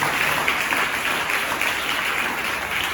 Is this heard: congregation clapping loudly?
yes